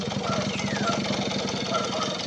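A vintage Suzuki FR50 motorcycle engine running steadily close by, a continuous buzzing, pulsing idle with a faint voice talking over it.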